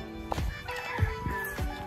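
Chickens cluck in short, repeated calls, fairly close, over a steady hum of background noise, in a mango orchard on a game farm.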